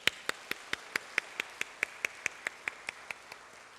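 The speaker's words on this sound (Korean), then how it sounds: "우리 격려를 한번 박수하겠습니다." A church congregation applauds the choir with crisp, evenly spaced claps in a steady unison rhythm, about four to five per second, moderately close and with no voices over them.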